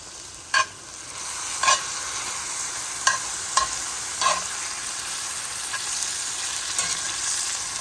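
Pasta all'assassina frying in a Lodge cast iron pan, a steady hiss of sizzling broken by several sharp crackles and spatters, close and without talk.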